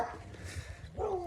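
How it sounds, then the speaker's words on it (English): Several dogs bark in a short burst close by, a yelping, whimpering cry rising near the end over a steady background hum. "there were like 6 dogs barking at me."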